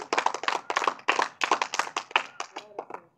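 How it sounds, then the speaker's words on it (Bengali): Rapid, rhythmic hand clapping during a lively street magic show, a steady run of sharp claps that tapers off near the end. "একটা তালি মারবে, তালি"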